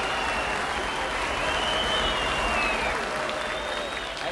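A studio audience at a 1967 German television show greeting the whistler Whistling Jack Smith breaks into sustained, even applause, a dense continuous wash of clapping from many hands, with no talk over it.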